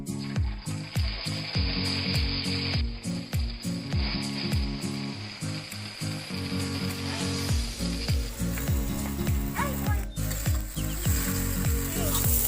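Egg chowmein noodles stir-frying in mustard oil in a wok: a continuous hiss and sizzle with rhythmic scraping stirs, close by, under steady tonal background music.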